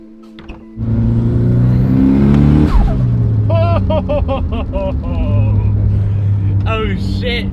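Turbocharged 2.4-liter Mitsubishi Evo 8 fitted with an Evo 9 turbo, running high boost, revs hard through a pull: a loud, close, sustained engine roar that climbs and surges with a rising whine, continuous for the whole stretch.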